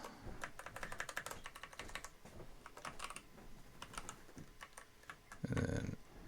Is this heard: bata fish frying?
no